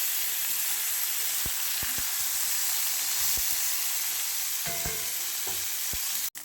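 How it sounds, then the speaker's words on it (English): Pork sears in a hot pan with a steady, loud broadband sizzle and hiss, broken by a few sharp clicks and taps of a utensil against the pan, with no talking. "my pork is still searing"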